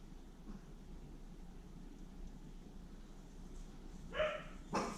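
A dog barks twice outdoors, a short loud woof followed by a second bark about half a second later, heard at a moderate distance over a steady background hiss.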